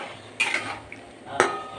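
A spoon clinks twice against a pan while fried rui fish is stirred into masala for a korma, the two short metallic scrapes separated by a quiet gap with a faint sizzle.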